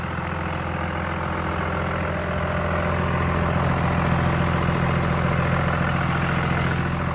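A King Ranch truck fitted with a swapped Cummins diesel idles close by, a steady low rumble with a faint pulley whine riding on top; the engine firms up slightly partway through.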